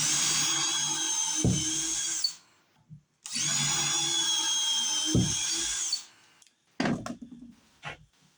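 A power drill drives 2-inch deck screws into wood while building a hand sled: two long, loud, steady whining runs of about two and three seconds, each ending with a thunk, then short clatters and knocks.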